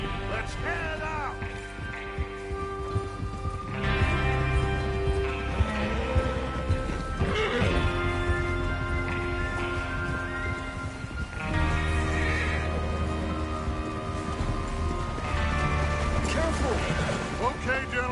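Horses whinny and neigh repeatedly amid hoofbeats and clattering, with voices talking over the scene and layered game-like ambience, as riders prepare for a train robbery in a video game.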